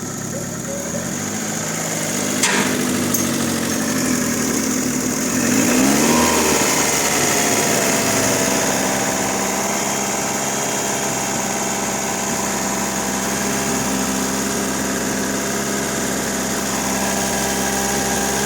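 A car engine idles, then rises briefly in a rev and settles back to a steady idle hum, fairly loud and close, during an engine coolant system flush.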